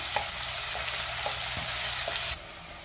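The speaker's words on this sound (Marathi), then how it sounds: "तेल गरम झालंय, तेलामध्ये मी कांदा घालते" Onion frying in hot oil in a pan gives a loud, steady sizzle with light crackles and occasional stirring taps, which drops to a softer hiss near the end.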